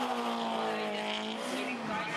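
Drift car accelerating hard at a D1SL drift event in Maze, engine revving high and steady with a tire squeal and skid mixed in, loud and continuous with the sound of a crowd behind it.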